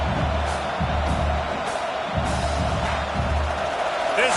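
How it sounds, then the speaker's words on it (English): Home crowd at a UCLA versus LSU college football game roaring loudly and steadily, a dense wash of cheering and whoops that stays full throughout with no clear talk on top. "how nice is it to have the home crowd going absolutely bananas?"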